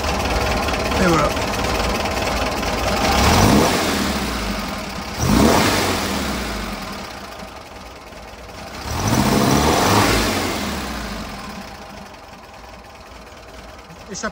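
Air-cooled engine of a 1970 Volkswagen Combi T2a Westfalia with original exhaust, started cold and revved in three loud swells, each rising and falling over a steady rumbling idle.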